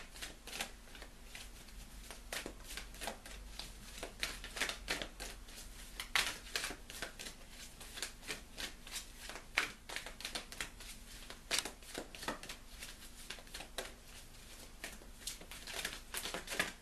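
Tarot cards are shuffled for a Scorpio reading, a long steady run of close, soft riffling and flicking bursts with no talk.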